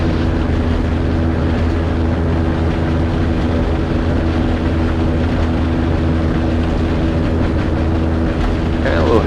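Super Petrel amphibious aircraft taxiing across choppy water, its engine droning steadily and loudly throughout with a constant low hum, close and unbroken.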